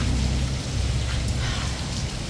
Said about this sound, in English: I think the rain slowed down a little bit